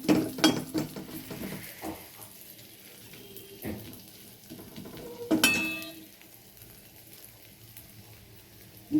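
Whole spices such as cardamom, cloves and cinnamon crackle and sizzle in hot oil over a medium flame while tempering a vegetarian cauliflower curry with cashews. Sharp bursts of spattering and occasional utensil clinks rise over a quiet, low frying hiss.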